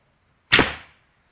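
A single wooden arrow leaves a Win and Win Black Elk recurve bow in one sharp, close whoosh with a quick decaying tail, followed by silence.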